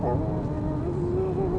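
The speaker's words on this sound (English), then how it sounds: "I wonder if that's the coil whine I hear now." Faint steady high-pitched coil whine from the electric motor of an Opel Corsa-e, a thin continuous tone sitting over low road and cabin rumble, unchanging throughout the short stretch.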